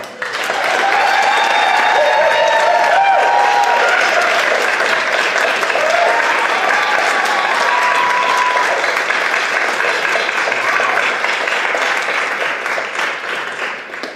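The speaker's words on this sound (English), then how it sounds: "give them one more round of applause" An audience at a school board meeting gives teachers a sustained round of loud, dense applause that stays steady for most of the stretch before thinning slightly at the end, with a few voices calling out over it.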